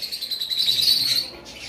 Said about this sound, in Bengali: তারপরে এখানে রয়েছে আমাদের কাছে ফিশার লাভ বার্ড